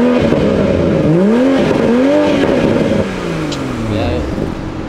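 A car engine revs up and down in repeated rising and falling sweeps, loud and close, with the pitch dropping off in the last couple of seconds.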